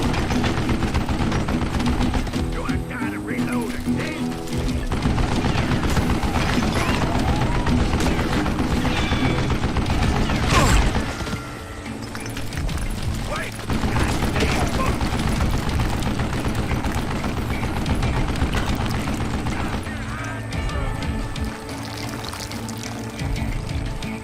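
Rapid sustained machine-gun bursts from an old man's mounted gun in the Western shooter Call of Juarez: Gunslinger, dense and loud throughout, mixed with game effects and ricochets.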